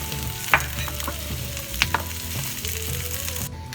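Red onion, garlic and ginger sizzle loudly in hot oil while being stirred, with a constant frying hiss and a few sharp utensil clinks against the pan.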